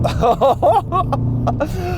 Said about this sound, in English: Oh, the responsiveness of this engine is so good.